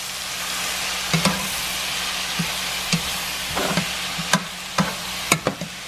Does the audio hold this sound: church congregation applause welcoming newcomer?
no